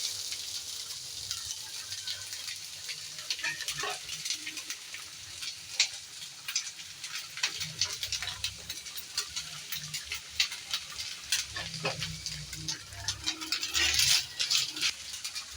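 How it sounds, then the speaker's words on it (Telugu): Grated coconut fries in ghee, giving a continuous close sizzle with light crackling and the rattle and scrape of a spoon stirring it, and no talk. "ఇలా నేతిలోనే బాగా ఎర్రగా ఫ్రై చేసుకున్నాం కొబ్బరిని కూడా"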